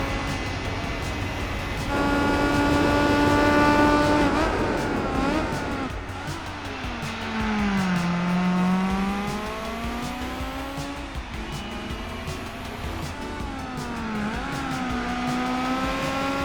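Honda S2000 with a 2-liter engine racing in Gran Turismo 4: a loud, high revving engine climbs in pitch, drops sharply at each gear shift, then rises again, repeating through several shifts.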